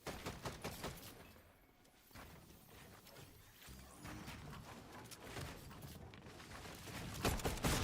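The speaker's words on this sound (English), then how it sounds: "Well, minigun time. Now it's a party." Sustained rapid gunfire from a minigun in the video game Fortnite, a dense continuous rattle that runs throughout and swells louder near the end amid other game noise, with no talking.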